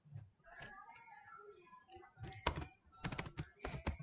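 Keys clatter on a computer keyboard as HTML code is typed, with scattered clicks early on, then denser rapid bursts of keystrokes, close and fairly quiet.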